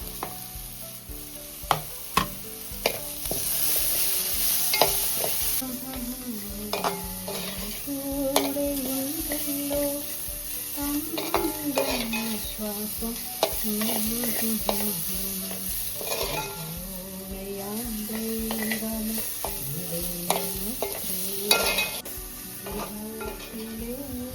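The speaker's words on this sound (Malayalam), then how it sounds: "ഇനി നമുക്ക് തേങ്ങാക്കൊത്തും പിന്നെ തക്കാളിയും കൂടെ വഴറ്റിയെടുക്കാം." Coconut pieces and tomato sautéing with onion, green chilli and curry leaves for a clam theeyal curry: a continuous soft sizzle in a pan, broken by repeated spoon scrapes and stirring clinks throughout.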